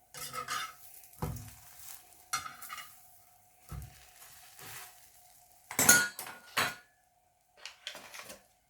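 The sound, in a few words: flipping toasted bread slices in a pan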